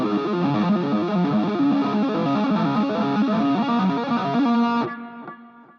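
Distorted electric guitar lead with a sweeping wah filter, played dry with no reverb through a small portable amp; busy phrasing runs steadily for about five seconds, then ends on a ringing note that fades out.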